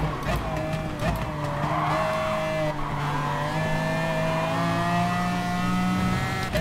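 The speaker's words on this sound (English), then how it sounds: "Huge amount of wheel spin coming out of the pits." A race car in the GT Sport video game spins its wheels leaving the pits, a loud sustained engine whine with tire squeal and skidding noise over several seconds, close and continuous.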